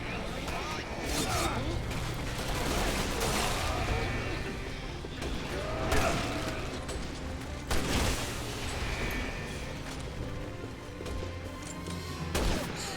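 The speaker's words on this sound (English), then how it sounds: "those are actual snipers on the opposing side" Sniper rifle fire from the opposing side in Resident Evil 6 cracks out in several sharp, scattered shots over a dense layer of gunfire and combat noise, with people talking throughout.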